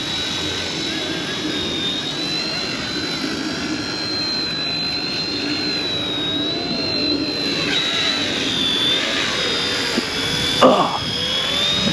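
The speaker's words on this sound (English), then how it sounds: "Look at me flying a little helicopter." A high, steady whine of an Eachine E110 tiny toy helicopter's motor and rotor hums continuously nearby, with wind noise and a brief bump near the end.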